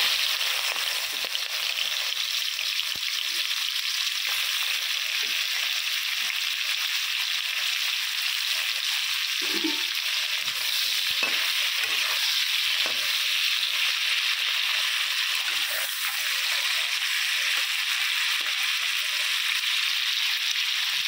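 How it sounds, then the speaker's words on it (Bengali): Prawns coated in salt and turmeric fry in hot oil with a loud, continuous sizzling hiss, occasional crackles and pops rising above it. "মাছগুলো আমি খুব ভালো করে লাল লাল করে ভেজে নেব।"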